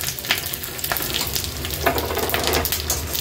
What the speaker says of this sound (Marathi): तेल गरम झालं की ही राई फोडणीला घालूया। नंतर कढीपत्त्याची पानं, हिरवी मिरची, हे पांढरे तीळ, फोडणी थोडी मिक्स करून घ्यायची आहे।